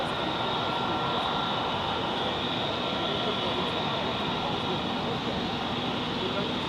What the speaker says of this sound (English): there is one airplane after the other coming in right now